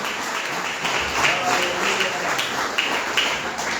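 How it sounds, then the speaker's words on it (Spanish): Church congregation clapping their hands during a Spanish-language service for a fifteenth-birthday celebration, a dense, steady patter of many hands filling the room for a few seconds. "Le podemos dar palmas al Padre, al Hijo y al Espíritu Santo de Dios."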